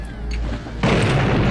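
TNT going off in Blood: Fresh Supply, a single heavy boom that kicks in suddenly after a low rumble and rolls on loudly to the end.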